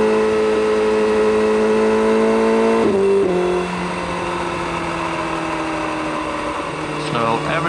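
A motorcycle loaded with 30 kilos of gear rides along the road toward Germany, its engine droning steadily up close and then shifting gear, with a rider talking over the hum.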